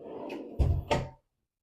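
Bathroom vanity drawers by white quartz countertops in a 2018 condo bathroom, heard as two close wooden knocks in quick succession after a soft sliding rustle, then silence.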